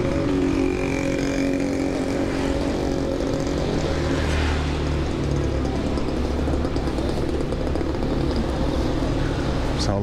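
Steady street traffic in a residential neighborhood, with engines rumbling and passing vehicles forming a continuous loud wash of low noise over the whole stretch, no talk.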